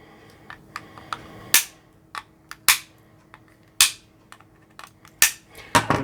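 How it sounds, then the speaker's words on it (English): Metal snips cutting component wire leads on a charger mod: a string of sharp, crisp clicks and snaps, several loud cuts with quieter ticks between, irregularly spaced and close up. "I still need to snip these leads."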